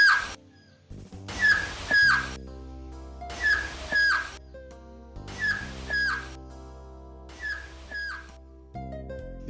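Pyramid echo answering a sharp clap: each burst of broadband noise is followed by a descending, chirp-like tone, quetzal-call-like, sliding from high to low, repeated about five times in an even rhythm, fairly loud and close with no talk.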